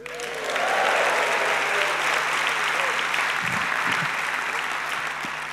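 Audience at the Skoll World Forum opening plenary bursts into sustained applause and cheering, a dense, loud wash of clapping that swells quickly and holds steady throughout, with a few whoops rising above it.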